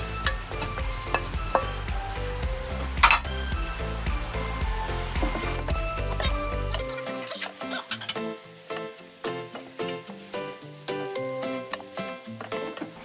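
Liver for Filipino pinapaitan stir-fries in a hot pan, loud sizzling at first that drops off sharply partway, followed by scraping stirs and clinks of a utensil against the pan.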